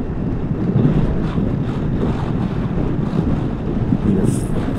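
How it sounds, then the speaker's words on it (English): Strong gusting wind buffets a scooter rider on a road at twilight, a loud, steady roar of wind noise hammering the microphone throughout with no voice heard. "the wind is just brutal. It's trying to push me off the road"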